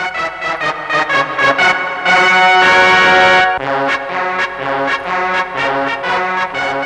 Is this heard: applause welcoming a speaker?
no